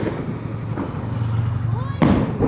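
Firecrackers burst during Kali Puja and Diwali celebrations, a few sharp pops, the loudest near the end, amid busy background noise and voices talking.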